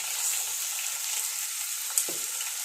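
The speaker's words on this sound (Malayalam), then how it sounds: "എണ്ണ ചൂടായിട്ടുണ്ട് കടുകിട്ട് കൊടുക്കാം" Mustard seeds dropped into hot oil in a pan, a bright steady sizzle with a brief soft clatter near the end, close and moderately loud.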